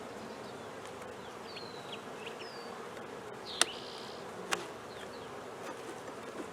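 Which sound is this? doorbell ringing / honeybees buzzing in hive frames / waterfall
honeybees buzzing in hive frames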